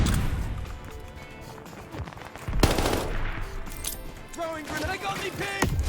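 Rapid bursts of WWII gunfire in the video game Call of Duty: Vanguard crackle and thud continuously while a person talks over the action.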